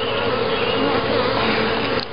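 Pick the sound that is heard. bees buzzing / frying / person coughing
bees buzzing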